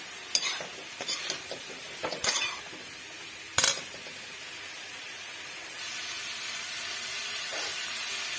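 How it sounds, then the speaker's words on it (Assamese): Bottle gourd stems frying in a pan sizzle quietly while a utensil scrapes and clatters in several short bursts, after which the hiss settles into a steady, slightly louder fry. "লাও ঠাৰি ভাজি আছোঁ।"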